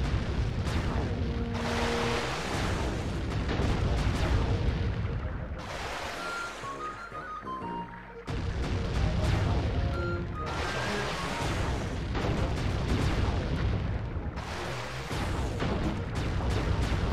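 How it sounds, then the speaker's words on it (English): Booming shots ring out in the video game Sly 3: Honor Among Thieves during a boat sequence, heavy blasts repeating over a dense, loud backdrop of game music and effects. "How many more shots do I need to give this fucking thing, huh?"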